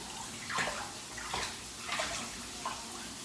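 Water runs and splashes into a bathtub while dogs are being bathed, coming in four rhythmic swells of sloshing over a steady rush.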